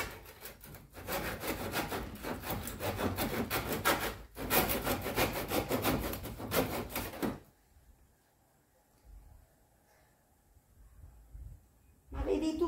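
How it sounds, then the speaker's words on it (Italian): A hand saw cuts through a piece of wood in steady back-and-forth strokes, close and loud for several seconds with a short pause, then stops, leaving quiet room noise before a brief burst at the end. "Quindi noi ora ci armiamo di seghetto sega."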